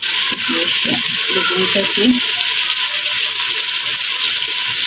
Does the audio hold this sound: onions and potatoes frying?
yes